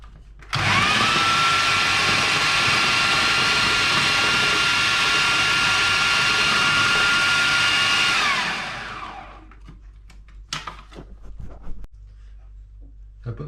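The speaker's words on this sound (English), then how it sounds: "So I'll put the chopper in now, roughly chop the coriander and the spinach" An electric chopper whizzes coriander and spinach: a loud, steady high whine runs for about eight seconds, then winds down, followed by faint kitchen clatter.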